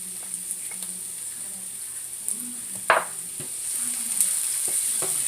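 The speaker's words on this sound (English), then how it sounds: "we're going to go ahead and add our minced garlic in here" Minced garlic sizzling in a pan of nearly cooked sautéed vegetables for garlic shrimp, a steady soft sizzle with a sharp scrape of the utensil midway and light stirring, the frying growing slightly louder toward the end.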